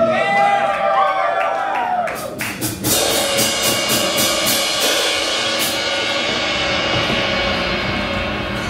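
A live audience at a small venue gig claps and cheers for a band, a dense burst of close applause and whoops rising after a spoken introduction and continuing steadily throughout.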